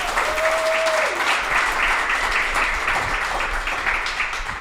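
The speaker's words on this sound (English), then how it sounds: "people can give another round of applause" Radio show audience applauding a guest, Big Star drummer Jody Stephens, at Songbirds: a dense, steady burst of clapping filling the room throughout, with a brief tone at the start.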